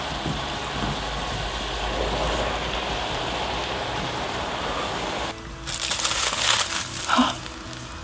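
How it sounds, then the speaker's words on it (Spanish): Soap is poured into liquid nitrogen and freezes with a steady hissing, crackling rush. Near the end a sudden louder burst of bubbling and crackling follows a brief dip. "¿Qué ocurre si echamos el jabón en el nitrógeno?"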